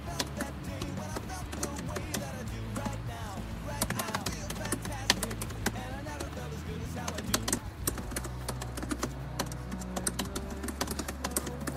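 Steady, rapid keyboard typing during a Steno Arcade song, with dense clicking over background music and occasional talk.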